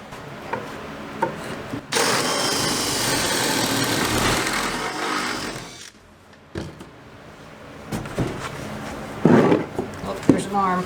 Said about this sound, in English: Most peaceful drilling of a hole with a paddle bit.